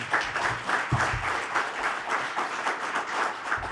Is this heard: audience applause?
yes